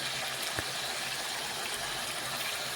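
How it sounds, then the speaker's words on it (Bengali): Water poured into a pan of frying potatoes, a steady rushing hiss that holds evenly at moderate level, with a faint knock near the start and no speech. "একটু পরিমাণে জল দিলাম আমি।"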